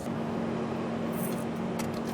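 A car engine idles steadily with a low, constant hum and drone, fairly quiet, with faint rattles and clicks over the top.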